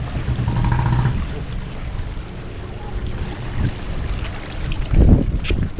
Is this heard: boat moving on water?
yes